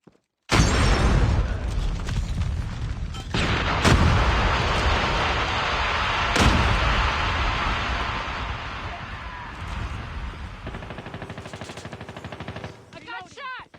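Heavy gunfire and booming blasts, including a grenade explosion, in a Hardpoint match of a first-person shooter video game; loud, sustained rumbling with several sharp bangs and faint voices underneath.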